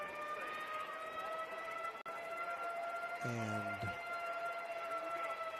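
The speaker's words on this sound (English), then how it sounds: "we are hearing the siren. The siren from the weather alert" A weather alert siren wails steadily at a high school varsity football game, a sustained tone carrying over the outdoor field, with a brief burst of a second siren-like tone partway through and one word of commentary.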